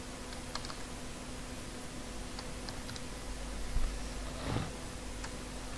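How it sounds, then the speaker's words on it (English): Code being typed on a computer keyboard for an Angular TypeScript model file, heard as faint, sparse key clicks and taps at a steady low level with no talking. "Inside that I will type"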